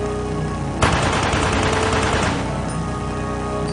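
A burst of rapid gunfire from an M16A2 rifle erupts after a short lead-in, a loud dense rattle of shots for about a second and a half before it fades into a ringing tail.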